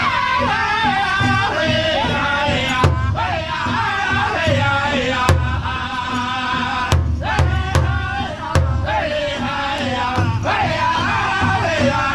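A crowd at a powwow on Ala Moana Beach, Oahu, yells and whoops loudly and continuously, a dense roar of many voices with sharp thumps and peaks throughout.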